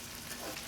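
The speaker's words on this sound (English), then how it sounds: "Keep stir-frying that around." Red chilies, garlic and ginger sizzling in a hot wok while being stir-fried for mapo tofu, a steady close hiss of frying with no talking.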